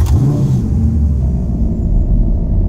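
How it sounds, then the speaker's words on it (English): A powerful Maserati car engine revs and rumbles up close, a deep throaty roar that swells briefly and then settles into a steady growl. "And even the sound of the car is just different than everything else."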